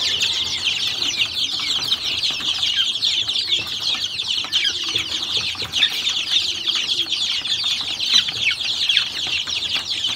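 A flock of around a hundred young jungle fowl chicks in a pen keeps up a constant, high-pitched chorus of cheeping and clucking, steady and close throughout with no voices.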